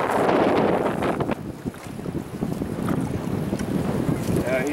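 Strong wind buffets the microphone on a fishing boat out on the water, a loud, steady rushing roar that carries on without a break. Faint voices sit underneath.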